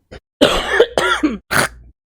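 A few short, harsh coughs from a video game character in a quick cluster, close and fairly loud, with a brief pause before a final rough burst.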